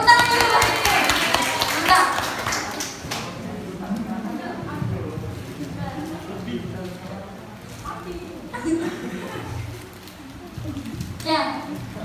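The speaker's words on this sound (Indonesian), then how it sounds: "Ya, Bapak tepuk tangan dulu Pak." A small group applauds during an indoor cooking class on shaping, steaming or boiling food. Brisk clapping is strongest at the start and fades into scattered taps while adults and children talk.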